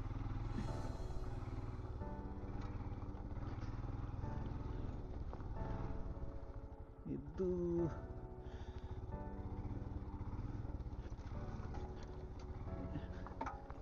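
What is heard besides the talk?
Himalayan motorcycle riding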